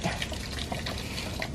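Water runs steadily through a hose on an RV being winterized, drawn through a three-way valve rather than from the tank; a constant close hiss and trickle with no talk.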